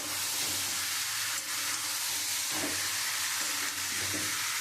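Fried prawns sautéing with elephant foot yam curry in a pan, a steady moderate sizzle with occasional soft stirring scrapes, close and continuous without voices.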